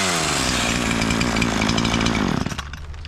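A chainsaw, freshly fitted with a cleaned carburetor and new spark plug, cuts into a tree stump, its loud, close, steady buzzing bogging slightly under load before easing off at the end.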